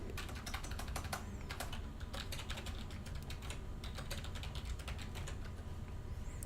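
Steady, rapid typing on a computer keyboard as a password is entered, close and fairly quiet, with irregular clicking keystrokes running throughout and no voices.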